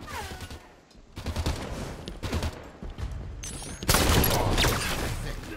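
Close shotgun blasts and other weapon fire from the sci-fi shooter Halo Reach in a zombie game mode, coming in separate loud bursts with short pauses and growing dense and heavy near the end.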